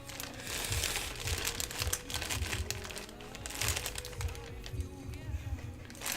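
Fingers rummage through a small plastic parts bag from a Tamiya Volvo FH12 1/14 scale RC truck kit, producing continuous close crinkling and rustling with irregular bursts of louder crackle.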